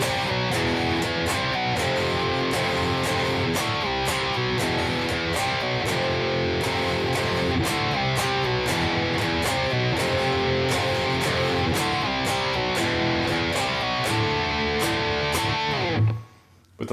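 Distorted electric guitar plays a chorus variation in E Aeolian, loud and dense with steady chugging rhythm throughout, ending in a short slide before cutting off.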